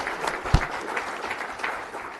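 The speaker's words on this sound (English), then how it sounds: "Let's give a nice round of applause for all of that" Scattered audience applause at a county board of supervisors meeting, moderately loud and short, with a single sharp knock early on.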